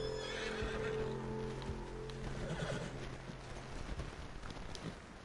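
Horse whinnying loudly with hoofbeats clopping beneath it in Red Dead Redemption 2, set against a continuous rumbling game ambience; the neigh fades after a couple of seconds as the hooves carry on.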